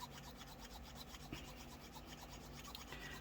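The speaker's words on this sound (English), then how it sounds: "So I'm just gonna continue filing them down." A hand file rasps steadily back and forth along the edges of a cured UV resin reindeer holiday decoration, a close, continuous scraping rub with even strokes and no talking.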